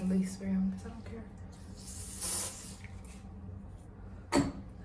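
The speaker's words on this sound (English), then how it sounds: "I'm gonna use fucking lace spray on this." Lace spray is misted onto a hair wig in a brief, soft hiss burst of about half a second, set against low room noise with faint voice-like sounds around it.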